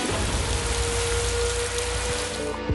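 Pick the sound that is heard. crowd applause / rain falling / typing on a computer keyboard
rain falling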